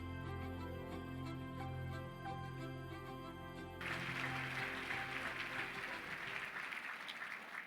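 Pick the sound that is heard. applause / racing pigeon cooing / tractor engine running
applause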